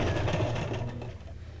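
A sewing machine stitching a small rustic square of fabric for a junk journal, a close, steady mechanical whirring run that tapers off near the end.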